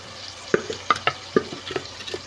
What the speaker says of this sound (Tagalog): Ayan guys, papulahin ko lang ang ating onion.